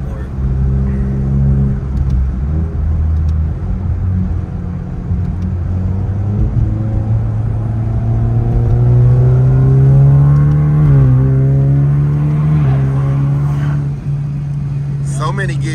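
A Hyundai Kona N fitted with an SXTH Element downpipe pulls hard through several gears, its loud engine note rising steadily with brief dips at each shift, heard from inside the car under talk.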